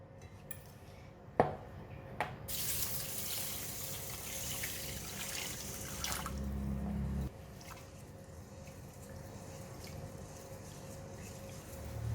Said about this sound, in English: we're gonna go ahead and wash the rice